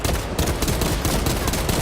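Rapid automatic gunfire in Space Marine 2: loud, dense bursts of shots in a close, continuous rattle with no pauses or talk.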